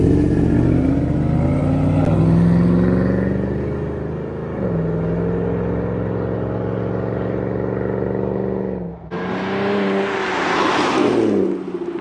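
Dodge car engine with its exhaust valves opened, revving loud and close with a steady throaty drone that rises and dips, then a sharper, harsher burst of acceleration near the end.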